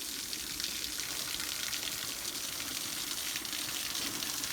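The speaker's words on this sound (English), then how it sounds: "this water, which as you can see deliberately flows away from the wall" Water from a mill pond flowing away from a stone wall, a steady broadband rush with no breaks, heard alone at a moderate level.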